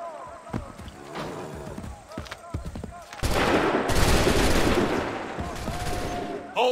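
Musket gunfire from soldiers in Assassin's Creed 3, a heavy volley erupting at once and sustained as a rolling roar of shots, with voices shouting commands before and around it.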